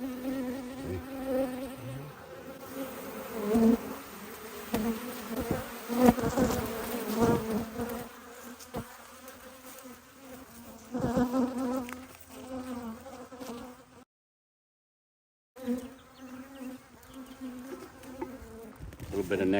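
Honey bees buzzing thickly around an open beehive, a close, continuous droning swarm with brief louder passes and a short cut-out gap.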